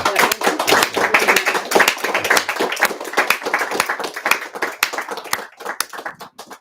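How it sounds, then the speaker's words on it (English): An audience at a book reading claps in a warm round of applause, dense and near at first, then thinning into scattered individual claps toward the end. "can we give a nice round of applause to that?"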